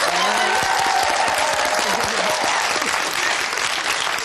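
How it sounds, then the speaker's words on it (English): Game show contestants on a 1994 family episode of Catchphrase clapping themselves, a loud, continuous burst of studio applause that holds steady throughout. "You're the first English contestants I've ever seen clap themselves."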